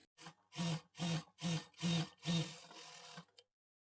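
A sewing machine stitches a blouse lining in five rapid bursts, each a buzzing whir with a steady hum, close and loud, before stopping into silence.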